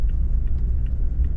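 A 3rd-generation Toyota Tacoma out on the road, heard as a steady, close low rumble of engine and road noise inside the cab, with no talking.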